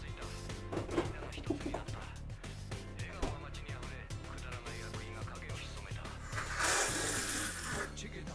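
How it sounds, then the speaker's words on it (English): Water runs from a tap into a container for several seconds, steady gushing with a brighter, louder stretch near the end, heard close and alone without talk. "I'm gonna go refill my water."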